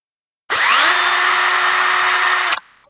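A salvaged cordless screwdriver runs at a higher speed setting, its motor whining up quickly and holding a loud steady pitch for about two seconds before cutting off and spinning down.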